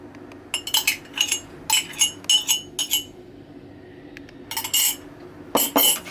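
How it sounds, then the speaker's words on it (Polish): A utensil knocking and scraping against a bowl while vegan chocolate cookie dough with flaxseed gel is mixed, in bursts of clinking strokes with short pauses between them, close and fairly loud. "Wszystko razem mieszamy."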